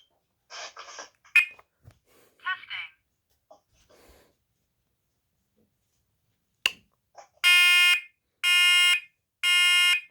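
An SC7010 LBLV smoke alarm under test sounds three loud, evenly spaced blasts of its low-pitched horn, preceded by quiet clicks and brief speech.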